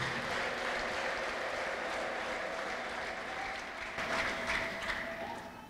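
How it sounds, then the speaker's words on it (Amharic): A church congregation applauds during a service, a steady wash of clapping held at a moderate level, swelling slightly near the end with a faint high ululating tone blended in. "ለጌታ ከፍ ያለ እልልታ ጭብጨባ።"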